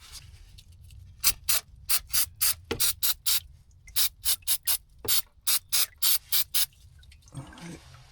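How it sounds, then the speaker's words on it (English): Brake cleaner sprays onto a Jeep Grand Cherokee differential in a series of short, sharp hissing bursts in quick rhythm, close and fairly loud, with a brief clatter near the end. "We'll just hit it with a little bit of brake clean and clean her up."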